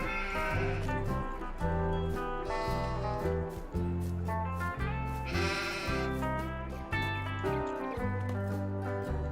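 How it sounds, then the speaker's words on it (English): Sheep bleat in the farming video game Farming Simulator 22, repeated rhythmic bleats over a looping musical background, moderately loud and close, with no talking. "let's check on our sheep."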